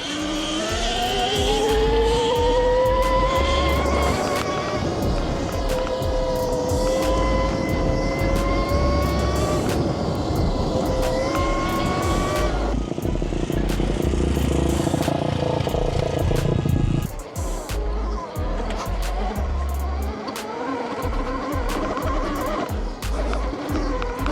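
A REXX T01 72V electric bike climbs a steep slope of loose dirt, its motor giving a loud, steady rising whine with shifting pitch that runs continuously, briefly dipping near the end under strong outdoor noise.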